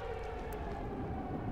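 A tornado warning siren in a Minecraft weather mod sounds as a loud, steady wail over dense rumbling wind noise.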